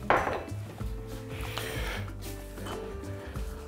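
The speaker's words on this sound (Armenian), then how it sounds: "կտրատում ենք, այսինքն կտրատում ենք ծաղկաբույլերը" Broccoli is cut into florets on a board, with soft knife contacts, faint clatter and a low room hum, all at close range.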